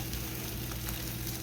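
A herbal omelet sizzles steadily in a hot pan, a soft, even frying hiss with no talking over it.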